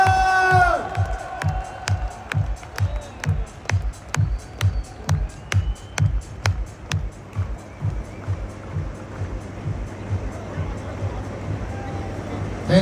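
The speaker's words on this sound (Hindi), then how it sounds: "जोरदार तालियां सर के लिए।" Crowd at a large business meeting cheers and claps as a Central Minister is welcomed to the podium, with steady rhythmic pulses from loud drums or music underneath the general hubbub.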